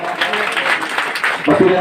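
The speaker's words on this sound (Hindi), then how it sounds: "जोरदार तालियां" Applause rises for a student being honoured at a coaching centre's award ceremony for Bihar Board class 10 and 12 results, a steady wash of clapping from a crowd that continues for the whole stretch, with a voice briefly heard near the end.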